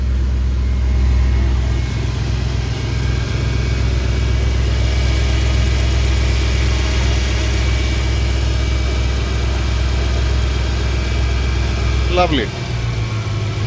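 A 2010 Mercedes E63 with 173k km idles steadily during cold warm-up, a deep continuous engine rumble throughout; a short voice comment and a brief whine near the end.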